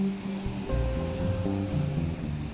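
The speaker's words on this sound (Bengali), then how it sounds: "নর্থের দিকে সমুদ্রে জলের উচ্ছ্বাস ছিল প্রচুর।" Rough sea waves surge and wash steadily onto a North Goa beach, a continuous low roar of surf with no voices.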